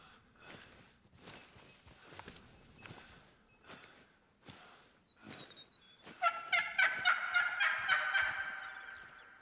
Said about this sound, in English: Female mating call.